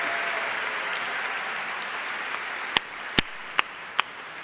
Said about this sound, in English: You see, Tim, people wanted to clap for you so quickly